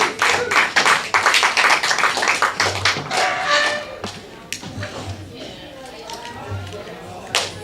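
Open mic night crowd at a gallery brew house clapping for a singer after her song, a scattered burst of hands under a host's voice that thins out and fades toward the end.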